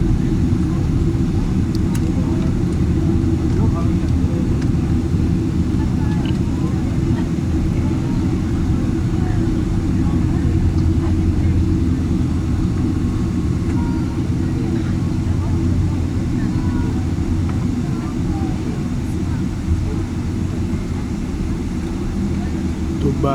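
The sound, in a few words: Emirates airplane just after landing in Dubai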